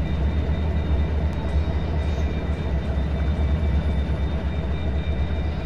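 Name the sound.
WDG4 diesel locomotive running in Train Simulator 2023 video game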